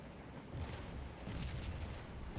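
An artillery battery fires in the Scourge of War battle game, with two broad, rumbling booms close together over a continuous low battlefield din.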